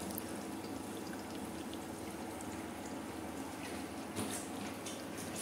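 Steady bubbling and fizzing of water inside a TX-H3000B hydrogen inhalation machine set to 15% gas production, an even continuous gurgle close by with no speech.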